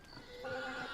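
A horse whinnies in Red Dead Redemption 2, a short rising neigh of under a second that swells and holds near the end, heard alone at moderate loudness.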